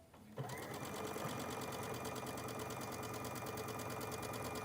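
A sewing machine stitches a seam for a wreath pennant, starting abruptly after a brief pause and then running continuously with a fast, even mechanical rattle at a close, moderate level.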